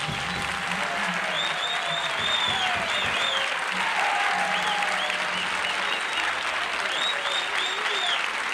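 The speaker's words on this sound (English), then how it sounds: "It's bad luck to stop applauding on the 13th" A studio audience at the Dick Cavett Show applauds, a sustained, dense wash of clapping with some cheering and voices mixed in, loud and steady throughout.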